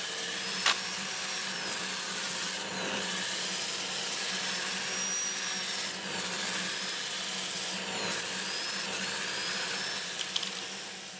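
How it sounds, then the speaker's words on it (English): A wood lathe hums steadily at around 400 RPM with a constant motor drone while sandpaper rubs against spinning black walnut, broken by a few brief scraping sweeps and light knocks. "this time I'll have the lathe running forward at around 400 RPM."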